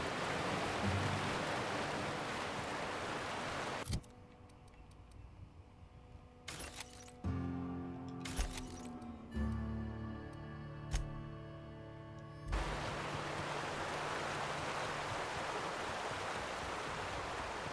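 In The Outer Worlds video game, a waterfall roars as a steady rushing wash. It drops away for several seconds while quieter tonal game sounds and soft clicks play, then returns at full strength.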